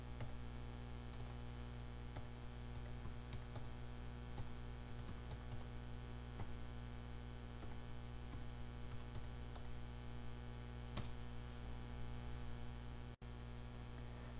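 Computer keyboard typing as passenger names are entered into a reservation record, a steady run of light clicks over constant electrical hum and static, with no voices.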